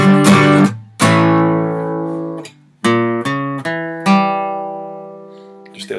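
Electric guitar strums the intro chords, then plays a melodic lick, with several ringing chord hits and single notes over six seconds, loud and alone.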